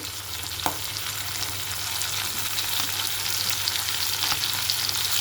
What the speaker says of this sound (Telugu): పచ్చిమిర్చి వేగిపోయినాయండి. టమాటా కూడా వేసేస్తున్నాను.